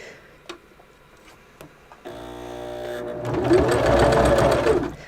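Sewing machine running a straight stitch at a set stitch length through fabric for napkins, starting after a few light clicks and building into a steady, close, loud mechanical whir that holds for several seconds.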